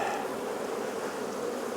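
Honey bees swarm through an opened hive after it has swarmed, a dense, steady, close buzzing that fills the whole moment with no voices.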